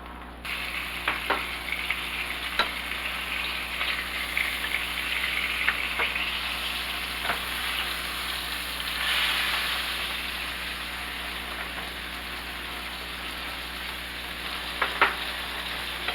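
Mushrooms and onions fry in a pan with a steady, even sizzle and hiss, broken by a few faint clicks and scrapes of stirring, with no talking.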